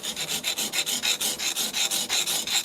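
A newly forged knife bevel rubbed by hand on a coarse King 120 grit whetstone, about fifteen rhythmic rasping strokes back and forth, close and steady.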